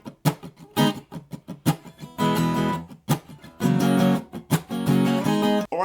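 An acoustic guitar strums a song's rhythm at full tempo. Sharp percussive muted hits alternate with ringing chord bursts, played close and alone.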